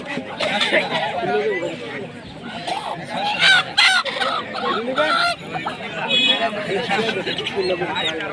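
Farm chickens at a Kapasia poultry market, clucking and crowing loudly and continuously as people talk nearby.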